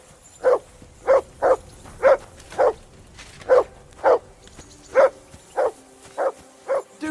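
Mutt the dog in Kingdom Come: Deliverance II barks about a dozen times in a fairly regular rhythm, each bark loud, close and sharp, with only faint background between them.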